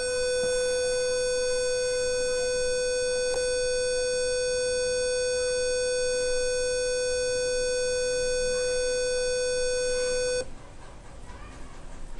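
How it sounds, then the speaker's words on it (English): Buzzer of an LDR-triggered automatic morning alarm circuit sounding a steady, loud, high-pitched electronic tone with strong harmonics, holding unbroken for about ten seconds before cutting off abruptly, leaving quiet room noise. "and hence the buzzer is sounding."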